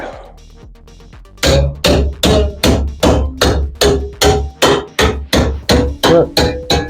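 Steady, rhythmic hammer blows on the rusty metal body of a Mazda MX-5, a dozen loud ringing strikes in even succession after a brief quieter lead-in.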